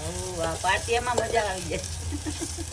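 Green chickpeas sauté in a clay pot on a stove, a steady close sizzle running throughout with a few clattering stirs and scrapes in the first half, while a voice talks over it.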